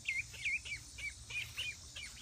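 Young ducks chirp in a run of short, high peeps, about eight calls spaced fairly evenly, faint and close by against a quiet background.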